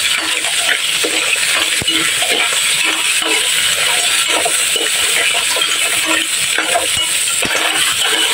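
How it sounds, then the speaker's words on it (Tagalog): Ingredients sautéing in a hot pan with soy sauce give a steady, dense sizzle and spattering, with light clinks of stirring throughout and no talk. "Igisa natin. Ayan, medyo matalsik."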